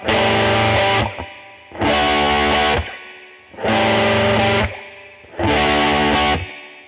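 A distorted electric guitar plays the same short phrase four times, each burst loud and sustained with brief gaps between repetitions.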